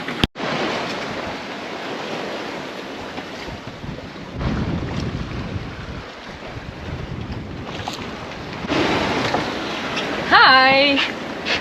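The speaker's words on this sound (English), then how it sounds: "I want to tell you about the waves. The waves are fairly big" Big ocean waves surge and wash around a small sailboat on a solo Pacific passage, a steady roar of water and wind noise with louder swells, broken by a brief higher whining tone near the end.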